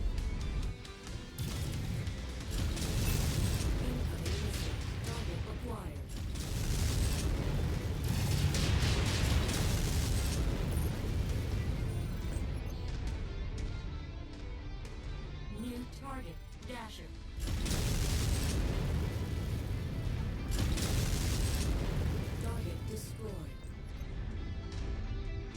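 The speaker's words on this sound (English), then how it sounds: "explosion detected." Explosions and mech combat in the BattleTech video game, with the Shadow of Kerensky expansion, form a loud, dense, continuous barrage that briefly dips around the middle before surging again, mixed with voices.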